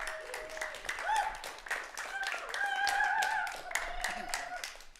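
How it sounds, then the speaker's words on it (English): An audience claps for Scott Gibb at a telethon, a scattered round of applause with loud sharp claps, while voices talk and murmur over it. "Would everyone give a round of applause to Scott Gibb?"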